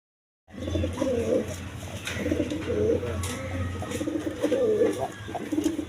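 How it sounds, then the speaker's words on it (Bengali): Pigeons cooing at a farm, including black-necked birds, with repeated soft, low, rolling coos from several birds close by over faint background chatter. "কালো গলা কবুতর"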